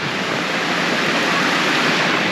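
Waterfall on Australia's east coast roars as a steady, loud, unbroken rush of water from close by, with no voices.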